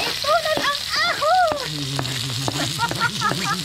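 Onion and garlic sizzle in a pan with a constant hiss and crackle, while voices chatter loudly over the cooking throughout.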